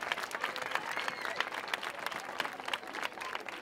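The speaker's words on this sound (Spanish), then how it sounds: "fuerte aplauso a San Bernardo" A crowd at a 25N commemorative event in San Roque claps for Colegio de San Bernardo, a steady, moderately distant wash of applause with faint voices mixed in.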